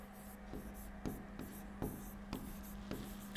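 Chalk or marker writing a chemistry formula on a classroom board, with several quiet strokes and taps at an irregular rhythm over a steady low hum, with no speech.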